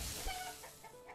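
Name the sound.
chickens clucking in Manor Lords video game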